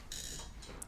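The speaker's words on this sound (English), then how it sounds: "That is my alarm." A high electronic alarm tone sounds steadily and quietly, with a brief brighter beep near the end.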